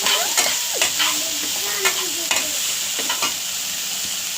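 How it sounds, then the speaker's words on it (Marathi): Cabbage bhaji is stirred in a hot pan. A utensil scrapes and knocks in short, irregular strokes over a low, continuous sizzle, close up and with no talk. "आता थोडी पुन्हा भाजी हलवून घ्यायची"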